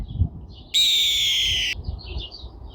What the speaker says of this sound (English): the red tail hawk sounds a lot more dramatic